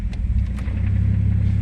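A warmed-up Ford Falcon engine turns over and settles into a loud, close, steady idle with a pulsing low rumble.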